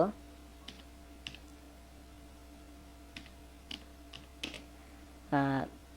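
Several sparse, quiet keystrokes on a computer keyboard while a command is entered in AutoCAD, scattered clicks over a low hum, ending in a slightly louder burst of keys.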